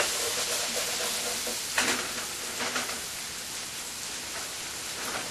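Okra fries in a pan on a stovetop with a dense, hissing sizzle that sounds like steady rain. A soft stirring scrape rises briefly partway through, and no one talks.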